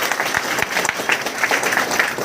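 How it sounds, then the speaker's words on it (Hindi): Audience clapping fills a freshers party hall, a dense steady round of applause that carries on loudly throughout without a break. "ताली इतना ढीला ढाला"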